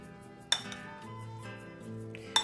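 Two sharp metal-on-bowl clinks from a utensil stirring a homemade pineapple and carrot salad with green pepper, spaced about two seconds apart over a soft, continuous background hum.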